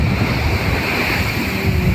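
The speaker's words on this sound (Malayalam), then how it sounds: "തിര ഒരുപാട് കടൽ ഇങ്ങ് കയറി കരയിലോട്ട് കയറി കിടക്കുവാണ്." Sea waves surge and wash up onto a beach in a continuous loud roar of surf, mixed with gusty wind buffeting the microphone, with no voices.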